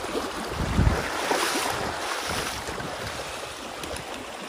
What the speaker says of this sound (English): Water keeps coming and coming and coming.